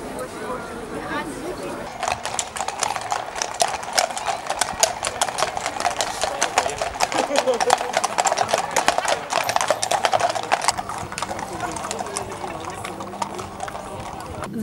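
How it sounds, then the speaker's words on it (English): Many horses clip-clopping on hard ground at the Berwick riding of the bounds, a dense, steady patter of hooves that swells in the middle and eases toward the end, with voices in the background. "The riding of the bounds happens every year and all the horses gather."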